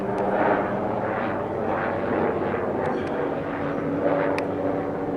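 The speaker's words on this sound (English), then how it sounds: "That could be a spy helicopter." A steady engine drone of an aircraft, likely a helicopter passing overhead, fills the whole stretch at moderate volume with no voices.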